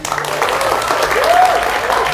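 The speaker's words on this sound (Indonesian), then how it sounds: "Tepuk tangan yang lebih meriah lagi." Studio audience at a televised political talk show applauds loudly, a dense, steady burst of clapping that fills the short moment, with a faint voice underneath.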